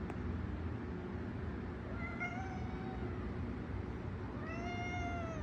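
A Manx cat meows twice close by, a short rising call followed by a longer drawn-out one, over a low steady background hum.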